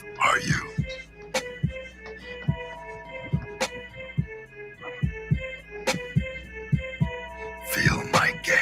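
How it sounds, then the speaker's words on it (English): Frantic heartbeat effect: quick, regular low thumps pulse steadily beneath a dense, tonal musical backdrop, with brighter swells near the start and end. "I can hear your heartbeat, frantic and wild."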